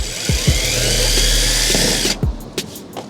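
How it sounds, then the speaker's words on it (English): A power drill with a 1/8 inch bit whirs steadily for about two seconds drilling a small pilot hole, then stops, followed by a few light clicks and taps close by. "So I'm going to drill a small pilot hole with a 1/8 bit."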